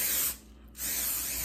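Reshoevn8r protector spray misted onto designer shoes: two close, loud aerosol bursts of hiss separated by a brief pause, with no talking.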